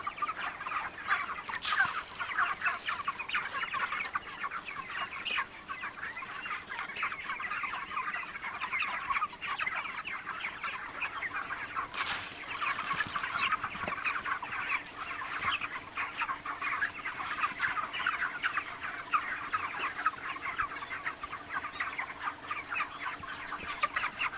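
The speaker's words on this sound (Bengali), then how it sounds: "সমস্ত মুরগিগুলো সব এই বালতির কাছে চলে আসতেছে" A flock of broiler chickens clucks and chatters steadily and closely at a feed bucket, a continuous busy murmur of many birds with no speech.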